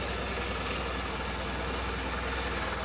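A Suzuki Burgman 650 scooter idles steadily on its center stand, a continuous low rumbling engine tone with even pulsing and no revving, close by.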